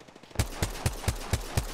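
Gunfire in Apex Legends rings out as six evenly spaced, punchy shots in quick rhythm, close and clear with no talk over them.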